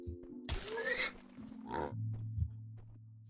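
A pig grunts in modded Minecraft, giving a few short, close oinks and grunts against a quiet background with a low steady hum.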